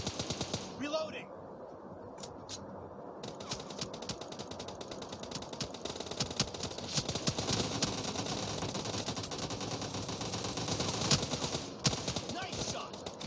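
Gunfire in the shooter game PUBG Lite fills a team deathmatch, with rapid automatic bursts cracking nearly nonstop after a brief lull, loud and close, while voice lines shout over the shooting.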